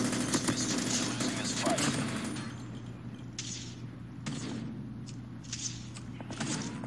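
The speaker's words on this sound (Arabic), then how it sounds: "صوت رصاص كيف" Gunfire in Call of Duty, bursts of rapid shots crackling over a steady droning game background, moderately loud with several sharp pops in the latter half, no clear talk.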